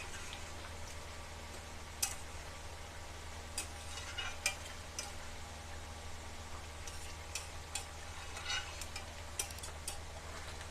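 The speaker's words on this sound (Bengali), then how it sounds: "মাছগুলোকে আমি দিয়ে ভালো করে নাড়াচড়া করে নিয়েছি" Katla fish pieces being stirred in a pan for doi katla, with faint soft taps and scrapes over a low, steady simmering background, quiet and close.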